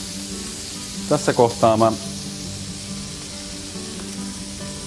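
Meat frying in a pan gives a soft, steady sizzle throughout, with someone briefly speaking over it.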